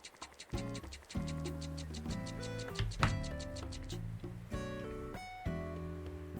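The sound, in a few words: toy train sounds in video game Animal Crossing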